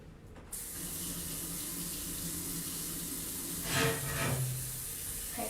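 Tap water runs steadily into a sink, rinsing etching cream off glass. The flow hisses continuously and splashes briefly louder near the end.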